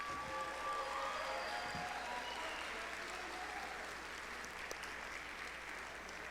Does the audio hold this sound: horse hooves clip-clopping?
no